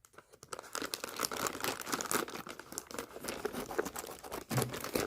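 Plastic packaging crinkles and tears in steady bursts close by as it is cut open with scissors, with snipping and rustling continuing throughout and no talking.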